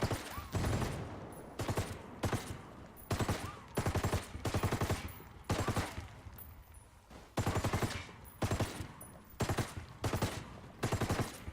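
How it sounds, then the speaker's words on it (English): Mark 48 machine gun in Ghost Recon Wildlands firing repeated sustained bursts, rapid automatic cracks in clusters of about a second with short pauses between, fairly faint and with no talk over it. "This Mark 48 will actually shoot through buildings,"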